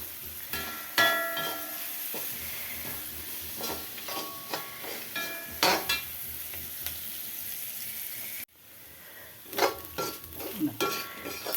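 Ginger and garlic sauté in leftover fish-frying oil, a low sizzle with repeated scraping and tapping of the stirring spoon against the pan, close and moderately loud.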